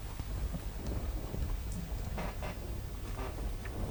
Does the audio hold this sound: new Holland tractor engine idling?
no